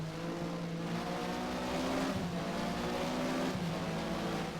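A Porsche Mobil 1 SuperCup race car at Estoril in Race07 holds a steady, loud engine roar, downshifting under braking and then pulling back onto the power through a corner, with no voices.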